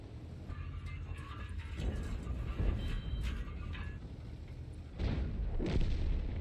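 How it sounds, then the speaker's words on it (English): Artillery fire in World of Tanks: dull booming impacts over a rumbling battle bed, with stronger blasts near 1.8 s, 2.6 s and a louder pair after 5 s, no voices. "I'm pretty sure it's artillery."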